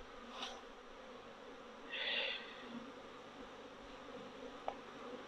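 Honeybees swarm around a shaken beehive with a drone-laying colony, a dense, steady buzzing at moderate distance that swells briefly as some fly closer, with no talking.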